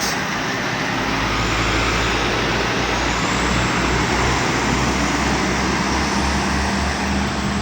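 Road traffic including a box truck passes continuously on the Payakumbuh–Bukittinggi highway in Indonesia, a loud, steady broadband roar of engines and tyres with low rumbling that swells slightly, no speech.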